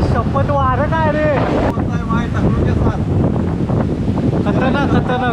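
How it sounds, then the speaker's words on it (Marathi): Strong mountain wind on the Gorakhgad trek roars steadily into the microphone in loud, buffeting gusts, while voices talk over it. "आई शपथ, वारं काय रे."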